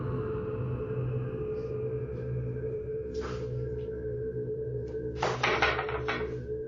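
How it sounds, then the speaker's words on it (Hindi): A door in a horror scene opens slowly, heard as a low sustained drone broken by two scraping, creaky bursts, the second louder and longer, with no talking. "पहले कुछ शोर के साथ दरवाजा धीरे से खुलता है"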